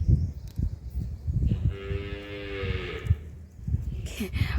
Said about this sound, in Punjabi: ਉਧਰ ਵੱਛੀ ਵਾਜਾ ਮਾਰੀ ਜਾਂਦੀ